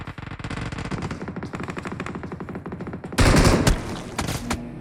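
Rapid automatic gunfire from the video game PUBG, dense bursts of shots throughout, growing louder and heavier near the end with a close, intense volley.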